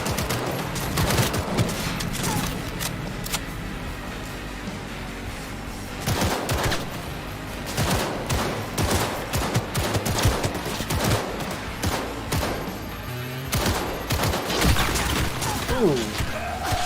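Gunfire rattles through a street gang fight in Cyberpunk 2077. Dense bursts and volleys of shots crack close and loud, stopping briefly and then starting again, with a voice faintly underneath.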